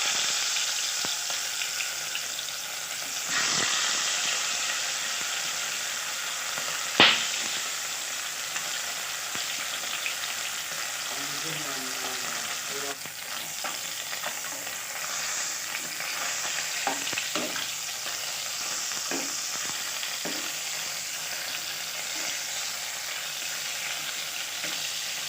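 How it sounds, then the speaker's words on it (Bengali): Two fish fry in mustard oil in a pan, a continuous sizzle with occasional sharp pops and the scrape of stirring, close and unaccompanied by speech. "আমরা সরিষার তেল দিয়ে মাছটা ভাজবো।"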